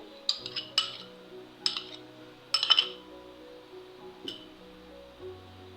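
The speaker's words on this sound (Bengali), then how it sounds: "টক দই চার টেবিল চামচ অর্থাৎ এক কাপ মতো ভালো করে ফেটে" Sour yogurt beaten in a bowl with a spoon, a series of bright metallic clinks and taps against the rim, irregular and close, with quiet moments between strokes.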